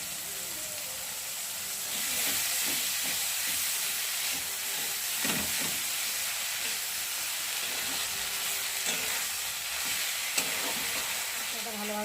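Ginger, cumin and garlic pastes and spices sizzle and are stirred hard in a pan for an egg curry, giving a steady moderate hiss with scraping strokes and small clinks, close by and with no voices.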